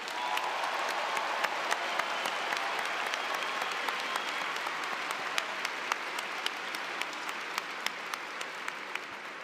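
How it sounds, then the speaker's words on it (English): A graduation audience applauds a soloist with a steady, wide wash of clapping that holds evenly for several seconds, with a few louder individual claps standing out, heard from a middle distance with no talk. "Let's give another round of applause to our soloist,"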